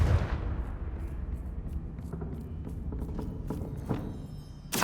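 A Confringo fire spell blasts in Hogwarts Legacy, a sustained rumbling burst with crackling bangs spread across a few seconds and a sharp hit at the end, with no talking.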